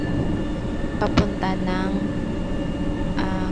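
Interior of a moving MRT train in Manila, a steady low rumble with brief tonal squeals and clunks over the track, and a voice speaking briefly over it.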